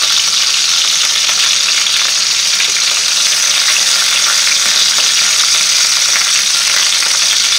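Rabbit pieces fry in a pan for lapin chasseur, a loud, close, continuous sizzle with faint scraping as the pieces are turned.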